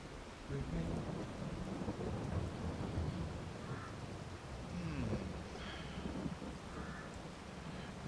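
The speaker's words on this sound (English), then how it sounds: "Rain. Rain." Rain and rolling thunder in the video game Farming Simulator 22, a steady wash of rainfall with a few distant rumbles and faint higher tones near the end, no speech.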